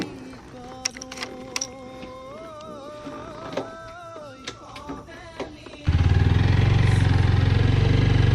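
A motorcycle starts and idles outdoors on a cold, rainy day in rural Majuli, opening with clicks, whines and a faint rising tone, then settling into a loud, steady engine rumble for the last few seconds.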